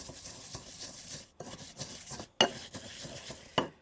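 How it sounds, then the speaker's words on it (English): Hot red pepper flakes, fennel seed, black pepper and salt are crushed by hand in short scraping, grinding strokes with a few sharper knocks, close and quiet with no talk. "throw in some hot red pepper flakes, fennel, black pepper, and some salt. And I'm just going to crush that around."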